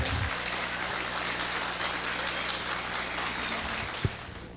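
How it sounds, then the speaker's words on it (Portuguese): A full room applauds to welcome a speaker at a legal conference on medical and health law, dense even clapping sustained for several seconds with a low hum underneath and a single sharp knock near the end. "Recebam-no com uma salva de palmas, por favor."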